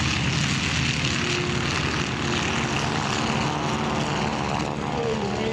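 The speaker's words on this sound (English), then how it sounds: "That's right, radial engine." A radial-engine propeller airplane at an airshow gives a loud, steady, rough drone that holds continuously throughout, with no talk.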